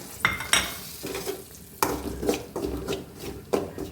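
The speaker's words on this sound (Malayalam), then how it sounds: "ഒരു സ്പൂണ് വെളിച്ചെണ്ണ ഞാനിവിടെ ഒഴിച്ചിട്ടുണ്ട് ചൂടായിട്ടുണ്ട് അതിലേക്ക് ഇട്ടൊന്ന് ഒന്ന് ചൂടാക്കിയെടുക്കാം" Spice powder frying in a spoonful of hot coconut oil for sambar, a low steady sizzle broken by several sharp scrapes and knocks of a spoon stirring the pan close by.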